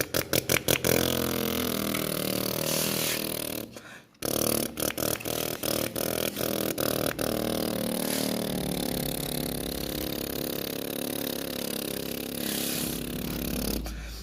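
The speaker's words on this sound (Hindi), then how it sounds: "चलो चलो हम ये बलवान ट्रैक्टर को लेके चलते हैं।" A Balwan tractor engine runs close by with a harsh, buzzing chug, briefly dropping and cutting out before resuming a steady loud idle with sputtering bursts.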